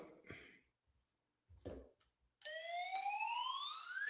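Siren starts abruptly after brief talk and a short pause, a loud, steady electronic tone that rises continuously in pitch and runs to the end.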